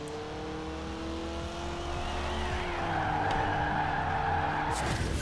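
Cars drift through a bend in Forza Horizon 4 during a spring rally event, engines droning steadily while sustained tire squeal and skidding rise toward the end, loud and close with no talk.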